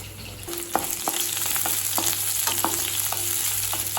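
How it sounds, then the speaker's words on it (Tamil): Ginger, garlic and green chillies fry in oil in a pan for Chicken 65, with a steady close sizzle and light, regular clicks of a spoon stirring. "இஞ்சி பூண்டு பச்சை மிளகாய் நல்ல கலர் மாறின வரைக்கும் வதக்கிட்டிங்கன்னா போதும்."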